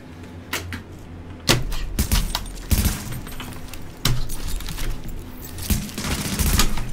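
Video game gunfire cracks in sharp, irregular shots and short bursts, loud and close, spread through several seconds with no talk over it.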